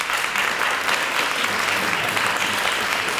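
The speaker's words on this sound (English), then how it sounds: "Please give me a round of applause for Mr." An audience at a school district's State of the Schools address breaks into dense, steady applause, loud and continuous throughout with no pauses.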